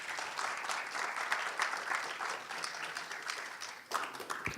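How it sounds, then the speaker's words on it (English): Steady applause from a conference audience at PyCon Balkan as a speaker is introduced, a dense, even wash of clapping that dips briefly near the end and then resumes. "big round of applause for Radoslav from HackSoft."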